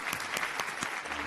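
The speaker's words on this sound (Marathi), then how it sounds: "जोरदार टाळ्या संदीप साठी" Sustained audience applause for contestant Sandeep on the Marathi TV singing competition Sangeet Samraat, a dense steady wash of clapping from a studio crowd with no one talking.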